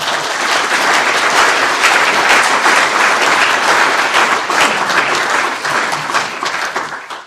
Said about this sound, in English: perhaps we give a little round of applause to Ian to encourage him on his way